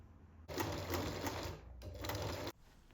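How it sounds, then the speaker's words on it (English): A sewing machine runs top stitching along a folded fabric strip on a Swiss flag, two close, steady bursts of rapid mechanical whirring separated by a short pause. "And this is sewn on with 2 rows of top stitching."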